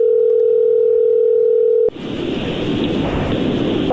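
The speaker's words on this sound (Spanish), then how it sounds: "Ahí está la llamada, no haga ruido." A telephone call connecting: a steady, loud dial tone holds for about two seconds, then cuts off abruptly into a broad, noisy rushing hiss of the open line that continues to the end, with no talk.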